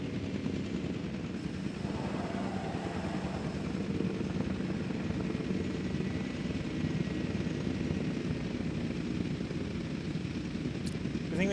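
Helicopter transporting assets in Jurassic World Evolution 2, a steady mid-level rotor and engine drone running throughout under ambient park game sounds.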